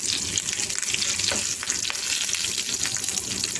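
Curry leaves and spices frying in oil in a pan, a close, constant crackling sizzle at steady volume with faint stirring.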